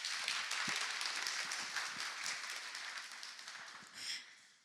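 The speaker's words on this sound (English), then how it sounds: "let's give these ladies an amazing round of applause" A room audience claps for guest speakers at a women's business event, a soft steady wash of applause that gradually fades out.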